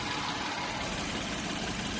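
A 2011 Hyundai Grandeur HG with a 3.0 petrol engine and about 129,000 km idles nearby, giving a continuous, even hum and rush with no change in level.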